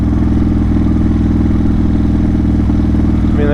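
A Harley-Davidson motorcycle cruising at low speed, its engine thumping steadily near and loud, with a rising rev toward the end as it is held in low gear and downshifted.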